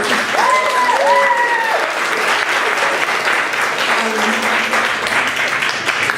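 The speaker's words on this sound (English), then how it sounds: "Can we give them a round of applause?" Festival audience at an anti-racism arts poetry jam applauds loudly and steadily throughout, with a few whistles or cheering voices rising over the dense clapping.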